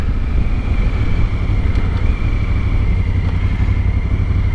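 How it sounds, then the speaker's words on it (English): Honda Africa Twin DCT motorcycle, 2019 model, riding with a steady close engine drone and heavy wind rush, the dual-clutch gearbox shifting down on its own with slight pitch changes partway through. "It's downshifting on its own."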